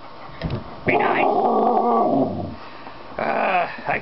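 A dog growls and whimpers at a chicken puppet in short bursts, close and fairly quiet, alongside a voice speaking in a silly puppet manner.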